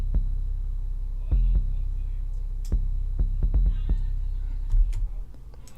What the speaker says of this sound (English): which is 808, and it sounds something like this, the bass line.